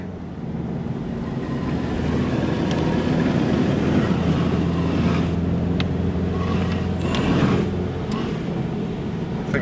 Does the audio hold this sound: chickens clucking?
no